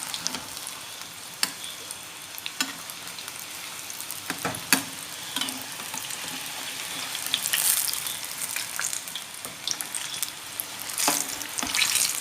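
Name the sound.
sukhiyan frying in a pan, Kerala street food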